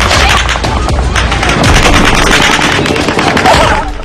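Dense, rapid bursts of indiscriminate automatic gunfire rattle continuously and loudly for several seconds, heard as a chaotic volley in a news report's footage.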